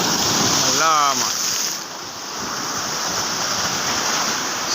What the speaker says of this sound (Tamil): கடல் சீற்றம் கடுமையாக இருக்கிறது